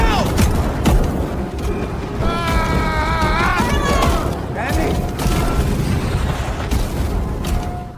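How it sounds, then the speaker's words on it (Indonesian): A chain of methane gas explosions in a film sweeps an area into a sea of fire, with dense rumbling booms and crackling bursts. Tonal swooping effects and sustained low roar run throughout, loud and continuous. "Percikan api itu memicu ledakan beruntun yang mengubah area tersebut menjadi lautan api"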